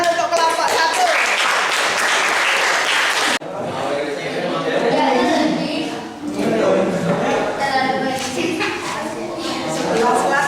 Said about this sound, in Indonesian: Ayo tepuk tangan untuk kelompok 1.